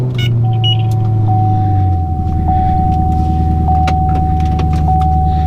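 A 2012 Chevrolet Camaro SS V8 starts up and settles into a loud, steady idle rumble, heard close and without talk, with a thin steady whine running through.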